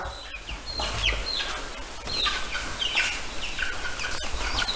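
Several chickens being carried over to a new coop cluck and squawk repeatedly, close and fairly loud, with a few sharp calls among the steady fowl chatter.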